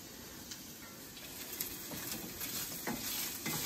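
Potatoes for a steak hash fry in a pan with a soft, continuous sizzle, broken by light scraping and clinks as they are stirred, close by and fairly quiet, with no talking.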